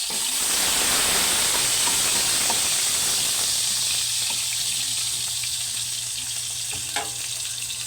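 Onions sizzle and fry steadily in a hot pan of oil, a continuous close hiss with faint crackles and a few scraping stirs.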